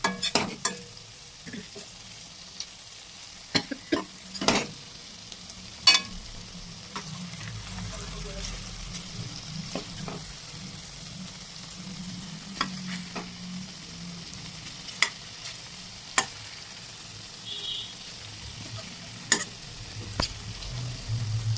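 Paneer tikka sizzles and roasts in a pan over a high-to-low flame, a steady quiet frying hiss broken by sharp clicks and taps as the pieces are turned, with a voice talking intermittently.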